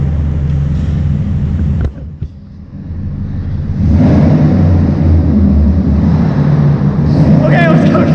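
A truck with Flowmaster exhausts revs inside a parking garage, a loud echoing exhaust roar that dips briefly then swells back strong and sustained.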